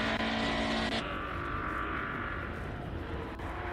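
Classic 1970s and 1980s racing cars roar past a commentary booth at a circuit, a loud sustained engine drone that shifts in pitch as the cars pass.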